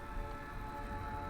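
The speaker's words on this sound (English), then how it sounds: "I didn't realize how much I missed the sound of that train." A train passing in the video game Night in the Woods, heard as a faint, steady, low rumbling drone with a sustained tonal hum and no distinct onsets.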